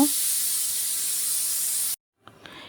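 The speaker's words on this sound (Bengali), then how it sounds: "তো দেখুন প্রায় ভাজা হয়ে এসেছে আমি একবার নেড়ে ছেড়ে দিয়েছি আবারও একবার নেড়ে দিব" Pieces of KFC-style chicken popcorn deep-frying in hot oil give a loud, steady, hissing sizzle for about two seconds, then cut off abruptly into near silence with a few faint clicks.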